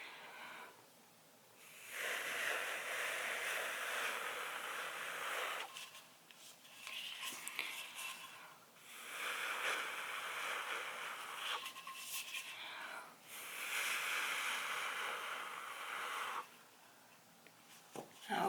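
Breath blown in long bursts to spread acrylic pour paint, several soft breathy hisses of a few seconds each with short quiet gaps between them, close and alone.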